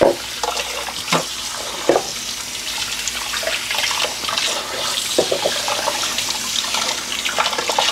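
Carrots rinsed under running tap water while cooking, a steady broadband splash of flowing water with occasional clinks and knocks of vegetables against a bowl, close and continuous throughout.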